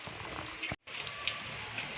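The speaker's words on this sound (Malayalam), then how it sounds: "നല്ല മഴയാണ് കേട്ടോ നല്ലതായിട്ട് മഴ പെയ്യുന്നുണ്ട്" Steady, dense hiss of heavy rain pouring down in Uttarakhand, with a brief sudden dropout partway through and a few soft drips standing out.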